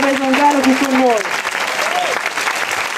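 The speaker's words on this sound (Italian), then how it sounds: "un grande applauso a Tommaso Gianni" An audience breaks into applause for Tommaso Gianni, loud continuous clapping with a voice speaking over the start.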